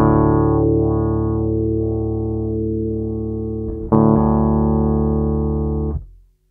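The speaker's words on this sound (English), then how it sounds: "I'm also going to search for the sweet spot on the neck pickup." An Alembic signature electric bass played through its neck pickup with the filter tuned to a sweet spot, a single sustained note ringing warm and resonant, then a fresh pluck near the end before it stops abruptly.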